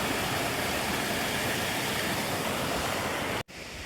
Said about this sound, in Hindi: तो ये छोटा सा वाटरफॉल है।